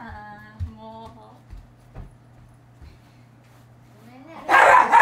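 A dog gives a few short, scattered barks indoors, fairly faint, and a louder burst of noise comes near the end.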